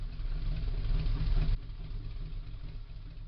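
Classic FN inline four-cylinder motorcycle engine idling, a steady low rumble with even pulsing, close and continuous, with a slight drop in level partway through.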